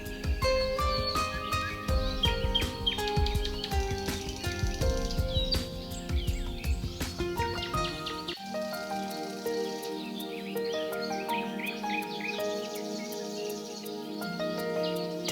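Birds chirp and sing in a mossy forest beside a river near Haast Pass, several bright calls repeating over a steady background, some near and some farther off, with no voices.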